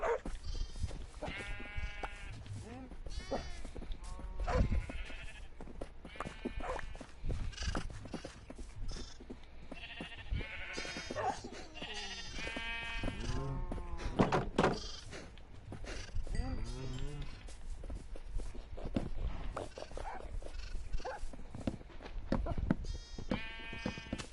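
Sheep bleating in Minecraft Bedrock Edition on PS4, with repeated wavering bleats from several animals overlapping steadily throughout over a quiet background.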